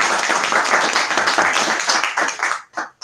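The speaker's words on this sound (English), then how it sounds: "I give you a round of applause." Audience applause at a robotics talk on social robots: loud, dense clapping that carries on steadily and then breaks off near the end.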